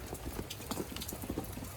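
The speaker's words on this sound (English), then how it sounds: "It's raining, so I'm not going to put the phone outside" Light rain falls outside a property being inspected, a faint, steady patter of scattered drops with a soft background hiss, quiet and continuous with no one talking.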